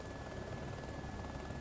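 Helicopter in the military video game ArmA II flying close by, a steady dense rotor drone filling the whole short stretch at an even, constant level with no talk over it.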